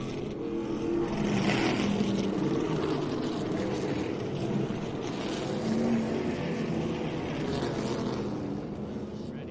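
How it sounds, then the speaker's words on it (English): NASCAR K&N Pro Series West race cars circle Colorado National Speedway in a pack behind the pace car under caution. Their engines make a continuous, even drone at moderate distance with no sharp revving. "The pace car picking up the field in turn one."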